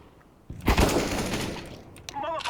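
A gunshot burst in a video game, a loud sudden blast of firing that rings out and decays over a couple of seconds, with a brief further sound near the end and no speech.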